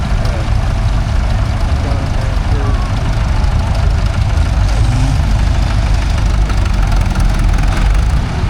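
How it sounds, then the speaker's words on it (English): Loud, steady rumble of several heavy tractor engines idling nearby in a parade at a steam and craft show, a dense low chugging drone with no break, faint voices barely noticeable underneath. "that looks like a tractor traffic jam"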